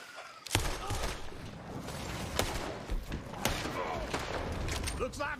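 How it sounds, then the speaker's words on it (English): Gunshots in the Western video game Red Dead Redemption 2: several sharp, separated cracks ring out over a busy backdrop of game ambience and movement, with a few thuds mixed in. "I'm gonna shoot this guy."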